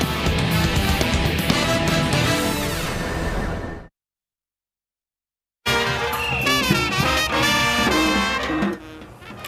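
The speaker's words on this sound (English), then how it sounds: "That's the sound of Mardi Gras" A Mardi Gras parade celebration in New Orleans sounds out as loud, dense music and crowd revelry, breaks off into a couple of seconds of silence, then returns just as full before fading slightly.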